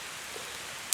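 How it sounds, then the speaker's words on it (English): Steady rain falling over a campsite in Salta, Argentina, a soft even hiss of drops on leaves and branches overhead, continuous and close, with one brief sharp tap near the end. "Rain spoils things a little bit."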